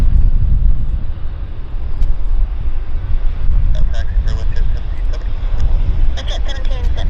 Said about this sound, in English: we have a WestJet just rolling out in front of us here